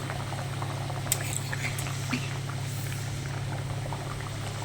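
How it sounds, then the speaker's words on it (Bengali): Puris deep-frying in hot white oil make a soft, steady bubbling hiss with a low hum beneath and a few faint clinks, quiet and continuous. "পুরিগুলো ছেড়ে একটা একটা পুরি আমি ভালো করে ভেজে নেব"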